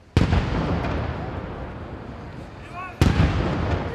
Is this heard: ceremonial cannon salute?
yes